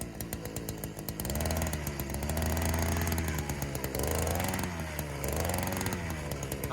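A power drill loosens dirt down in a hole while the ground is being laid out for pouring cement for a container barn. The motor drones steadily with a buzzing whine at moderate volume.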